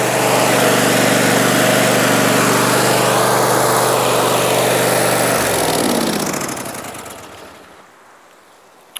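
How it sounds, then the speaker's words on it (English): A Scag Liberty Z 52 zero-turn lawn mower runs loud and close with a steady high engine drone and blade whine, then winds down and fades to near silence. "I don't think I have a better cutting mower I've ever had"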